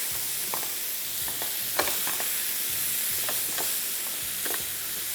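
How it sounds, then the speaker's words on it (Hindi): Chicken and egg omelette mixture frying in a pan, a steady close sizzle with periodic stirring scrapes breaking through at irregular intervals. "इसको भी फ्राई किया थोड़ा सा"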